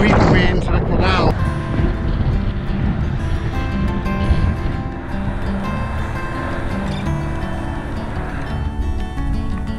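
Strong wind gusts buffet the microphone beside a canal, a dense, roaring rumble that stays loud throughout with a few sharper bursts early on.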